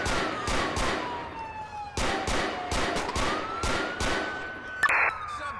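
Gunfire in GTA IV with LCPDFR, repeated sharp shots going off at irregular intervals over a wailing police siren that sweeps up and down, with a brief electronic radio-like burst near the end.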